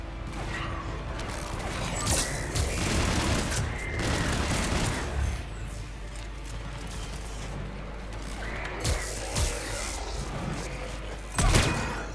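A submachine gun firing in Mass Effect 3 amid mechanical clanks and creaks, with scattered bursts of shots, thuds and a louder thump near the end, all moderately quiet under busy game noise.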